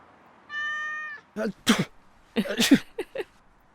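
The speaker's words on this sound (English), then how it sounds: "Hey, look, there's a cat." A cat gives one clear, drawn-out meow, followed by a person talking with short, breathy bursts.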